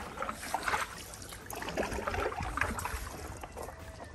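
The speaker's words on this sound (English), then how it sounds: "You can get a bit faster with the paddle strokes." Paddleboard paddle strokes in water, soft irregular splashes and dips, faint and close, repeating every second or so.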